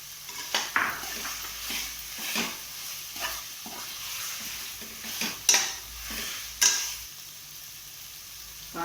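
Potatoes and cauliflower being sautéed in a pan for a spicy Indian chickpea gravy give off a soft steady sizzle, broken by irregular scraping stirs and sharp clinks of a spoon against the metal.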